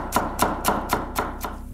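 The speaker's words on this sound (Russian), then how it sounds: "И мелко нарезаем чили." Knife chopping chili pepper finely on a board, six evenly spaced sharp taps about a quarter second apart, close and clear with no talking.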